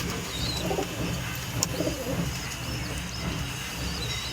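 Pet pigeons in a loft coo softly in low, repeated throaty murmurs, with faint chirps from other birds in the background.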